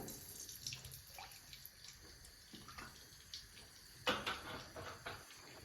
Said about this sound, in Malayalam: എണ്ണ ഒഴിക്കാം